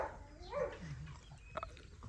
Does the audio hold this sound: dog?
yes